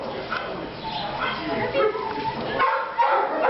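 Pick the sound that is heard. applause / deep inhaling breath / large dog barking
large dog barking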